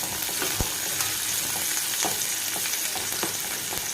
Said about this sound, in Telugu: ఈ ఎర్రగడ్డలన్నింటినీ బాగా ఫ్రై చేసుకోవాలండి.